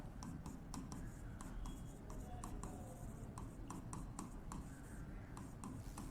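Pen or pencil writing by hand on paper while entering a receipts and payments account, a steady run of soft scratching strokes with short pauses, close by under a quiet background.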